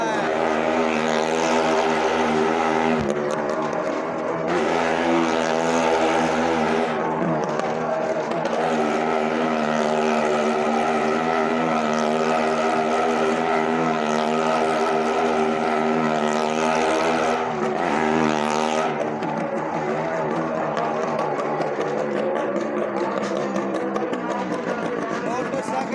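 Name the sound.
motorcycle engine roaring in a well of death stunt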